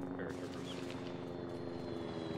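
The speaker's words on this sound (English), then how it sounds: "I hear a chopper." A helicopter in a combat video game passes overhead as a faint, steady rotor drone that stays level throughout the short stretch.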